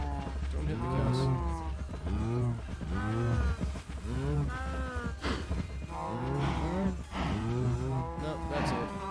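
Cows in a farming video game give repeated drawn-out moos, several overlapping calls in a steady run, loud and close, over a low droning background.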